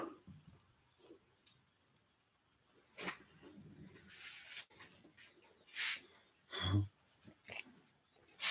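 A dog chews and whimpers softly during a veterinary check, making quiet clicks and small wet mouthing sounds in bursts.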